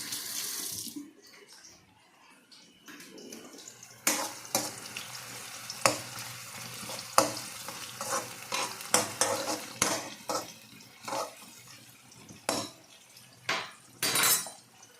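Onions frying in a pan while being stirred, a bursty sizzle with repeated spoon scrapes and clatters in an uneven rhythm, close and fairly loud after a quieter start, with no speech.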